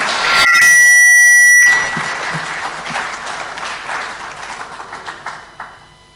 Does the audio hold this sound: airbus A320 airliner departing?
no